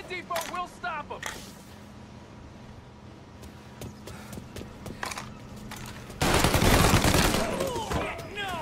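Rifle gunfire at the docks in the Mafia video game, a scattered run of sharp shots over a low engine hum, then a loud burst of rapid fire near the end.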